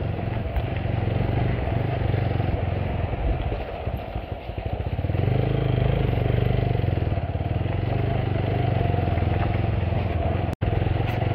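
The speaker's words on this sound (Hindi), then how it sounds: "मेरे बाइक में कुछ प्रॉब्लम हो गया है गाइस, क्योंकि ये पूरा क्लच छोड़ना पड़ रहा है मुझे" A motorcycle with a clutch problem rumbles steadily while being ridden, its engine a loud, continuous low drone with a slight dip and recovery partway through and a sharp click near the end.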